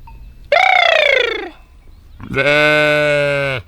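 Two loud, close bleats from orphaned young lambs in the Taurus Mountains, one wavering cry followed by a pause and a longer, steadier call.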